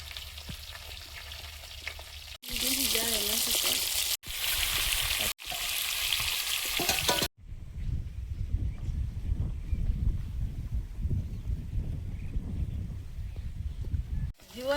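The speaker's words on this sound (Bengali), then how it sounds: "মাছ ফেটে পড়লো তেল ফাটে ফাটছে" Rohu fish frying in hot oil at home, bursts of loud spattering sizzle broken by abrupt cuts, then quieter rumbling background with faint handling sounds.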